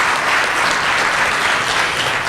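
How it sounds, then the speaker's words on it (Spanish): A lunch audience at a business luncheon claps steadily, dense close applause with no pauses. "Renovamos el aplauso"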